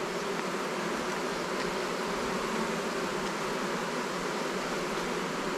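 A buzzing honeybee hive with broken drone brood frames hums as a dense, continuous swarm drone, steady and fairly faint throughout, with no voices.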